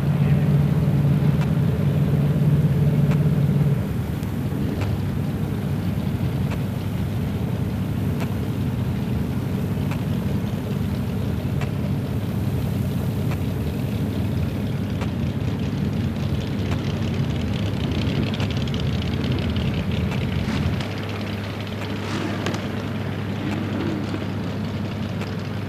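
A 1923 Ford T drag car with an injected 392 Chrysler Hemi roars at a drag race, a loud sustained engine rumble that drops in pitch and level partway through, with crowd and track noise around it.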